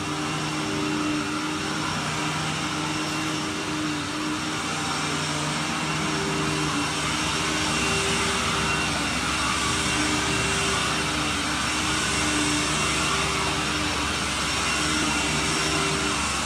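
Carpet cleaning vacuum lines running steadily on a truck-mounted rig, a loud continuous roar with a low droning hum that holds unchanged throughout, with no voices.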